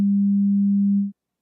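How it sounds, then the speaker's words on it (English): A pure sine wave tone, a single steady low pitch held evenly at constant loudness for about a second before stopping abruptly. "A sine wave sounds like this."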